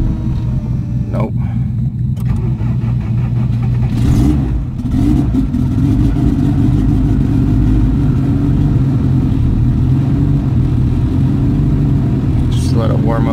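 A Honda Civic converted to all-wheel drive runs with a steady low engine rumble throughout, holding a rough idle with slight revs, while a person talks over it close by.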